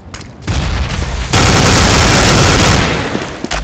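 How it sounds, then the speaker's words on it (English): A grenade explodes in Counter-Strike during a Master Guardian 2 matchmaking game, a loud broadband blast that swells in and holds as a dense roar for about two seconds before fading into gunfire-like crackle. "Throwing a grenade!"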